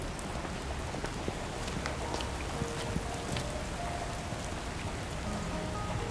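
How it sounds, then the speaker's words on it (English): Rain falls steadily in the Love & Deepspace video game, a dense even hiss of drops on surfaces with scattered louder patters, continuous and close, no voices. "the chance to get drenched in rain is rare. Like this!"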